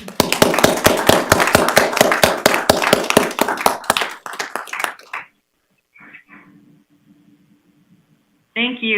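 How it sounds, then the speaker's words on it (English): Small group at a school board meeting claps for about four seconds, a close, loud run of individual hand claps in fairly regular rhythm that tapers off, followed by quiet and brief speech. "we could give you a big round of applause"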